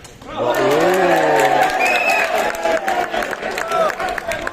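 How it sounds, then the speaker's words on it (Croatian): A football match crowd cheers and applauds after a goal, a loud wash of voices and clapping that swells at once and holds near, with a whistle-like tone and shouts poking through. "Gledaj kako navijaju za 2-1."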